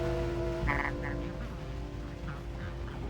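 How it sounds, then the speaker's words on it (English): A frog in the Paradise Marsh game gives a couple of short, bright croaks over a steady ambient bed of rain and music, followed by a few fainter calls. "I think it's a frog."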